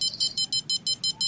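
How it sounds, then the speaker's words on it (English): A rod stand bite alarm in the Fishing Planet video game, set during night striped bass fishing in California, beeps steadily at a high pitch, about eight evenly spaced pulses repeating rapidly with no break. "Now that noise is going to drive you crazy, that rod stand alarm."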